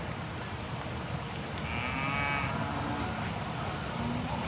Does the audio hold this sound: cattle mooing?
yes